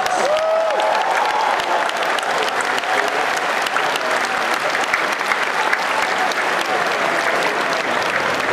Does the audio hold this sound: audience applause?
yes